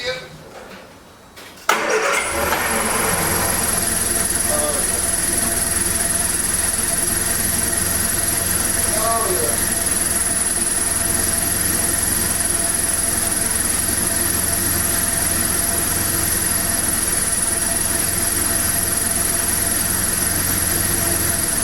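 A 1979 Triumph Spitfire engine cranks with a brief rough churn, then catches and settles into a loud, steady idle. A high squeal rides over the running engine throughout, and voices can be heard.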